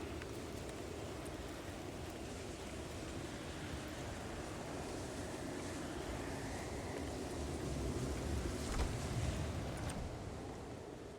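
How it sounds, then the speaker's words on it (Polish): Strong wind from a video game blizzard roars continuously, a dense broad rush that swells slightly toward the end, with no voices. "Bardzo silny wiatr"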